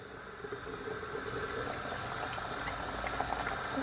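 A pot of potatoes boiling on a stovetop, half covered by its lid, gives a steady low bubbling and simmering hiss that holds at an even level throughout, heard alone and close by.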